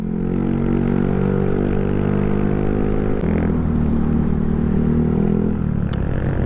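A Yamaha Mio Sporty scooter on a group road ride runs loud and close, its engine droning steadily, then shifting pitch twice as the revs rise and settle.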